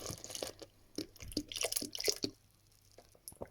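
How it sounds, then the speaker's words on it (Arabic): Milk is poured into cooked rice in a pot for rice pudding, giving soft, faint splashes, drips and wet squishes in an uneven run of short bursts. "هلا بنفضي الحليب"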